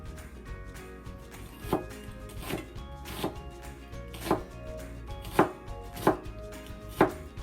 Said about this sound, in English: Try to cut it as thin as possible.